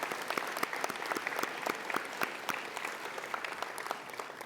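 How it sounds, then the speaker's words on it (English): An audience claps at a college convocation ceremony, a steady round of many hands with crisp individual claps, moderately distant and unbroken by voices. "round of applause"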